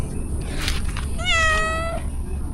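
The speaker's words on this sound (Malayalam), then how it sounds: "പൂച്ചയുടെ സൗണ്ടൊക്കെ ഉണ്ടാക്കണത്." A cat gives one drawn-out, rising-then-falling meow in the Karnala forest, close and clear over a quiet outdoor background with a few faint rustles before it.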